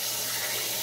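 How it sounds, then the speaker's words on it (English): Water runs steadily from a tap as a face is rinsed after a wet shave, a brief, even splashing rush. "let's rinse off real quick"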